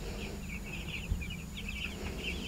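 A chicken on a farm makes soft, repeated clucking calls, faint against steady background noise, with no talking.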